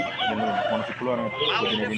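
A rooster, an Aseel cockerel of about three and a half to four kilograms and a year and a half old, crows at a Vijayawada rooster market, a loud near call with clucking fowl and talk around it.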